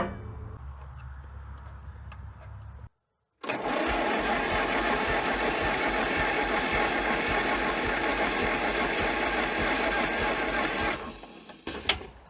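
A junkyard Minneapolis Moline Z tractor in scrap condition: its engine runs with a steady, close, rapid mechanical chugging for about eight seconds after a brief gap, then cuts off near the end.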